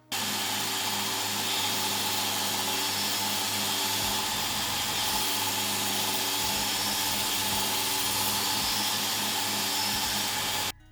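An Affe belt grinder rounds over a piece of wood, giving a steady loud whirring roar with abrasive hiss that runs unbroken for about ten seconds before stopping.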